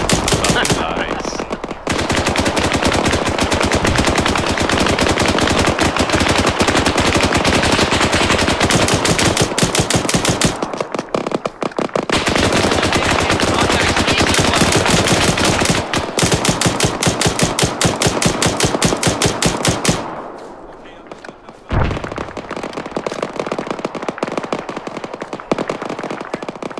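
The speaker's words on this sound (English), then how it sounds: "Yeah, I like that gunshot." Sustained automatic machine gun fire in the ARMA 3 combat game, long loud continuous bursts broken by short gaps, with a quieter lull near the end before shooting resumes.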